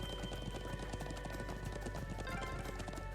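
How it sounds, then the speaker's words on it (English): Horse galloping in the video game Trails of Cold Steel 2, with rapid continuous clip-clop hoofbeats at a steady fast rhythm, fairly quiet with faint background game ambience. "turning is pretty hard when you're on the horse and you're speeding like this"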